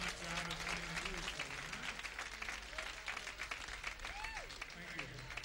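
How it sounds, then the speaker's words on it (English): Sustained audience applause at a 1978 Algarve jazz concert, a dense wash of clapping holding steady throughout with crowd noise and some faint voices and whistles mixed in. "round of applause for doing a tremendous job as being a group"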